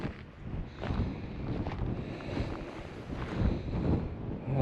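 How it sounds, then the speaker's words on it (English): Gusty wind buffets the microphone on the Kauzman Trail, high above a valley, as wind blows up the valley: a steady low roar and rumble that swells and dips throughout with no other sounds standing out. "It's quite windy because we're getting the wind coming"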